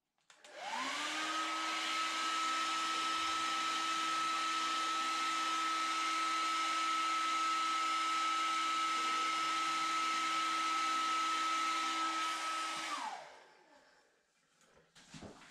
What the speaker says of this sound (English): so cranking up the blow dryer now